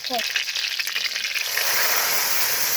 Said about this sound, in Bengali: এইবার পুঁই শাক সেদ্ধ করে রেখেছি। এইবার তেলের উপরে দিয়ে দিব।